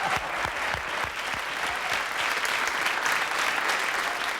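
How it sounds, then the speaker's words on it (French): Studio audience applause on a French hidden-camera television show, sustained dense clapping at full volume with a few sharper claps standing out early. "Il faudrait qu'on les applaudisse à nouveau"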